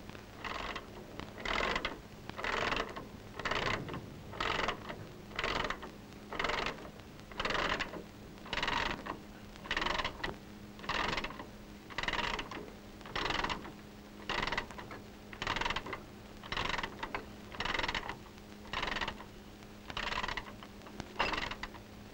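Crew wrenches turn the pin shafts of a field artillery gun's traveling lock to move it into battery, a long run of evenly spaced ratcheting clicks and creaks, faint and steady.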